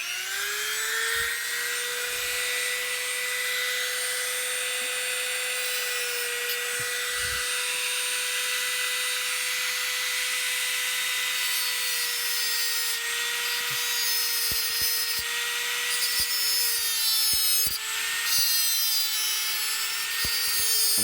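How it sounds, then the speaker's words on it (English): A small rotary cutter wheel grinds back relief into a split point drill bit, giving a steady high-pitched whine with a sustained tone and occasional light ticks, close and continuous without speech. "with the cutter wheel parallel to the chisel point, I will cut in some back relief right here up to halfway across"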